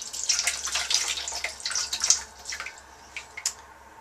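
Liquid ceramic glaze is poured onto a wheel-thrown ceramic vase, giving a soft, uneven splashing and trickling with a few sharper drips, fairly close and with no talking.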